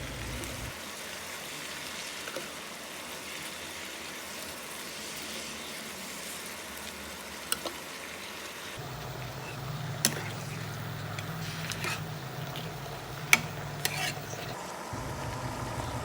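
Carrot, kale and enoki mushrooms are stir-fried in a pan, with a continuous soft sizzle and intermittent scraping and tapping of the spatula. The sizzle is steady throughout and grows louder partway through.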